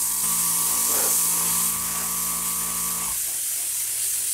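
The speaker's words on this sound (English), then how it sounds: "You're spraying white paint" An Aztek airbrush sprays white paint onto a model starship saucer: a close, steady hiss with a buzzing compressor-like whir that cuts out after about three seconds while the hiss continues.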